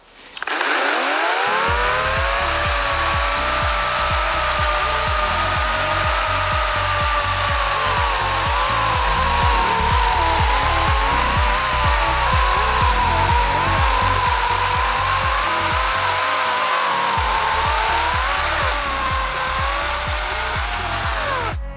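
A Sequoia SBC4014BSO cordless chainsaw cuts through wood, a loud, continuous high whine whose pitch dips and rises as the chain bites, running nearly the whole stretch without talk.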